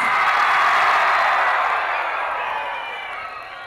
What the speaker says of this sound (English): give our boys another kaila and another round of applause.